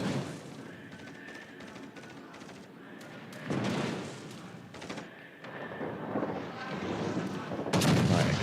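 Warship guns firing in the World of Warships: Legends naval video game, with several heavy booming salvos and thuds over a rumbling background that grows louder toward the end.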